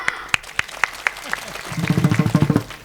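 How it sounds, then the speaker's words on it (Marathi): Audience clapping during a humorous kirtan: a few sharp, separate claps at first, then rhythmic clapping under a singing or chanting voice as it builds. "टाळ्या वाजा मनातून"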